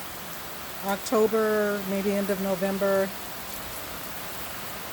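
A mild rain shower during the rainy season in Rwanda gives a soft, even patter that runs steadily throughout, while someone speaks briefly over it in the middle.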